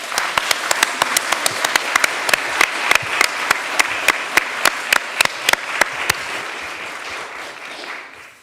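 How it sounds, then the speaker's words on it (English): An audience at a university student debate claps to welcome the speakers. Crisp individual claps stand out over a bed of lighter clapping, which thins and fades away near the end. "Let's welcome our speakers with a round of applause"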